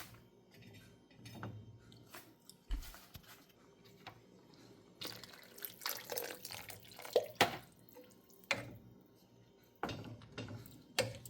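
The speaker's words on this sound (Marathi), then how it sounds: "आता ही खूप घट्ट झालेली आहे, त्यामुळे मी थोडं पाणी अजून ॲड करते" Water is added in splashy, irregular pours and drips into a thick restaurant-style paneer gravy in a pan, with scattered clinks and stirring sounds between quieter gaps.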